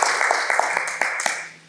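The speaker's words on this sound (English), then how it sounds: "Big round of applause for" Audience applause at a Toastmasters club meeting, a brief burst of distinct handclaps, fairly close, with a few sharper individual claps fading out within two seconds.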